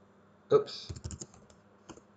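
Computer keyboard typing in a quiet room, a burst of several quick clicking keystrokes followed by a couple of softer, isolated key taps.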